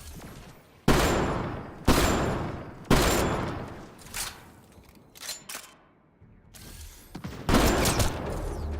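Gunfire in the video game Mass Effect Andromeda: several loud, sharp bursts of shots strike in quick succession, separated by short lulls with quieter pops and mechanical clatter, all without speech.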